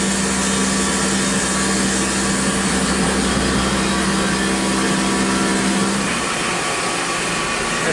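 Machine tool on a new motor and belt drive cutting at 4,000 RPM, a loud continuous whine and grinding drone that holds steady throughout, slightly changing near the end.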